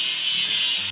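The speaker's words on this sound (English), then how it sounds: "Let's grind the welding seam." A toy construction game for kids grinds a welding seam on a crane with a cargo bed: one loud, steady, hissing grinding whir that holds evenly for about a second, then cuts off abruptly.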